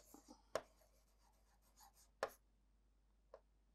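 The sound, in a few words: writing on a board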